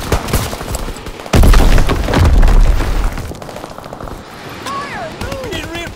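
Explosions and gunfire from a strafing run in the Call of Duty WWII video game, a dense loud barrage of booms and rapid bursts, with whistling descending sounds near the end.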